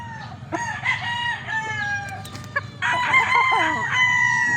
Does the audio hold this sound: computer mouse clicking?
no